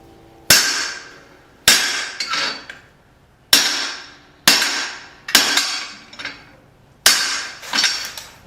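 Hammer blows on a hot bolt at the anvil while forging a small knife, sharp ringing metallic strikes in a slow irregular rhythm of about seven hits, close and loud with clanging rebounds after each.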